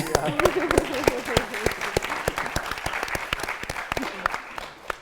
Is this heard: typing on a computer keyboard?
no